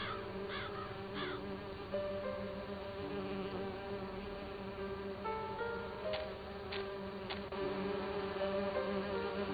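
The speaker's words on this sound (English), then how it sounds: "I need to subdue the bees first." Bees buzz steadily in the video game And Then There Were None, a continuous insect drone with a few cawing bird calls and chirps over quiet game ambience.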